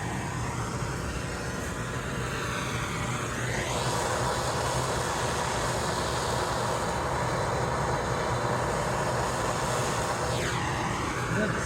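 A MAPP gas torch burns with a steady, loud, unbroken roar for the whole stretch, used for aluminum brazing while building a custom RV undershelf drink holder.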